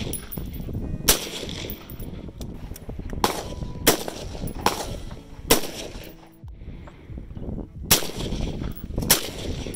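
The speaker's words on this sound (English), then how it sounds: "The Surefire Suppressor Trainer acts as a muzzle blast device." Six sharp gunshots fired through a Surefire Suppressor Trainer muzzle blast device, spaced irregularly about a second or two apart, each a loud broadband crack with a short decaying tail over outdoor background noise.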